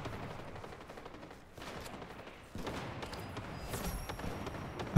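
A shotgun fires in a Fortnite match, with repeated sharp gunshots in quick bursts amid other weapon fire, growing louder toward the end and ending on a sudden close blast.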